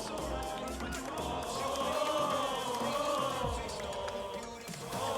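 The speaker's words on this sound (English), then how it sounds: "Just taking in the crowd." Esports arena crowd at a Rainbow Six Siege match between Team Falcons and Ninjas in Pyjamas at Gamers8, a steady loud roar of many voices with rising cheers and shouts throughout.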